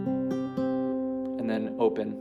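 Acoustic guitar notes from an Outer Wilds piece, a few plucked strings ringing out into a sustained G-like chord, close and clear with no talking.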